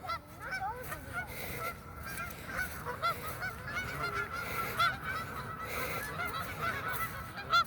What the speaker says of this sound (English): this is a lot of birds